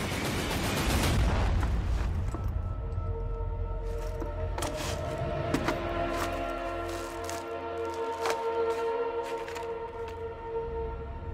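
Gunfire in a Spanish-language action film: scattered sharp shots and bursts ring out over a tense background with sustained tones, at moderate loudness and mostly without voices.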